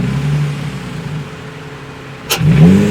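A Nissan 350Z fitted with an Injen intake idles with a low steady rumble, then a short sharp blip of the throttle brings a brief rising induction whoosh and engine rev near the end.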